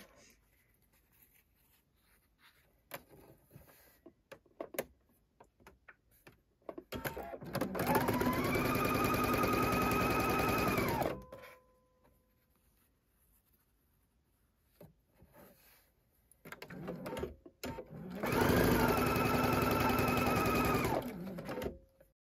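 A sewing machine stitches rows of a patchwork quilt together in two sustained whirring runs of a few seconds each. Quiet fabric handling and rustling fill the gaps between the runs.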